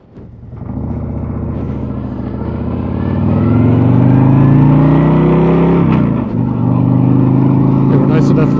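A 2024 Harley-Davidson Road Glide is ridden away, its engine starting low and building into a loud, rising rumble as it accelerates, then holding a strong steady drone close by.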